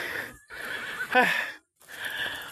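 A horse whinnies loudly nearby, a shrill, wavering neigh in the middle of outdoor ambience, with a brief pause before the background resumes.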